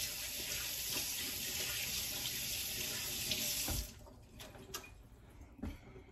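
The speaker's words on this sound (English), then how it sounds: "Let me rinse my hands." Running tap water splashes over hands being rinsed at a kitchen sink after handling raw hamburger meat, a steady close rush that cuts off partway, leaving a few drips and small clatters.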